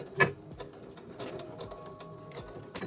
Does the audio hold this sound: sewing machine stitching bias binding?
yes